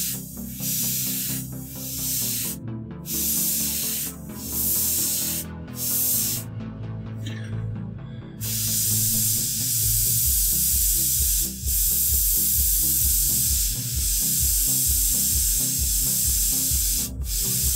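Airbrush hisses steadily as it sprays black paint onto a model canal boat, in long continuous bursts broken by brief pauses, close and fairly loud with no talking.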